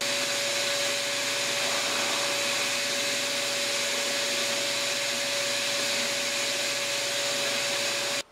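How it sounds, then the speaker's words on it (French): A drill bores and countersinks screw holes in the wood of a kitchen table frame, making a steady, loud whirring drone with a constant tonal hum that runs unbroken for about eight seconds and then stops abruptly. "Je suis maintenant à percer chacun de mes trous, chanfreiner pour que la tête de vis rentre dedans."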